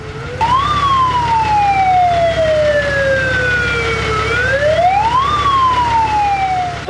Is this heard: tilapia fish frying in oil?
no